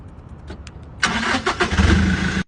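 A Toyota jeep's engine cranks and catches after a second of quiet clicks, then settles into a close, loud idle that cuts off abruptly at the end.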